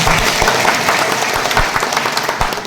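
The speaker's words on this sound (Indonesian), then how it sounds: "Tepuk tangan dong buat Allah kita." Audience applause at an elderly community health post gathering, many hands clapping densely and steadily at close range with no speech over it.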